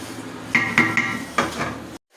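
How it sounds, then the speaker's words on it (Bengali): A spoon stirs potatoes into mutton in a cooking pot, giving a few distinct metallic scrapes and knocks against the pot over about two seconds, close by and clear. "আমি এখন আলুগুলো মাংসের ভিতরে দিয়ে দেব, দিয়ে ভালো করে কষিয়ে নেব।"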